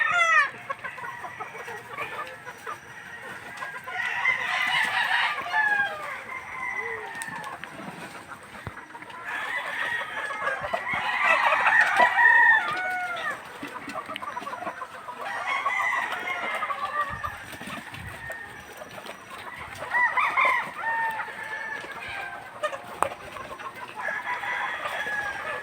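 Chickens cluck steadily on a farm with several birds among three- to four-month-old stock, while roosters crow in repeated bursts above the flock, fairly near and continuous throughout.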